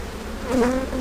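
Honeybees buzz close by during an autumn hive inspection, a short rising and falling drone from a bee passing near, heard alone without talk.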